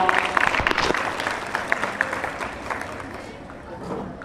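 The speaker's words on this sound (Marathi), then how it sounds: "टाळ्या जोरात वाजवा." Audience applause for athletes being honoured at a sports felicitation ceremony, a burst of clapping from a crowd that fades gradually over a few seconds, with a murmur of voices underneath.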